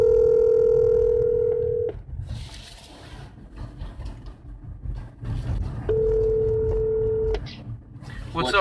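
Two clear steady tones from a phone placing a call, each lasting a couple of seconds with a gap between them, loud and close and alongside talk.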